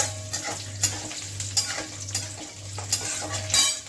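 Curry leaves and garlic frying in oil for a tangy spicy fish curry crackle and sizzle close up, with rhythmic metal spatula scrapes and clinks against the pan and a recurring low hum.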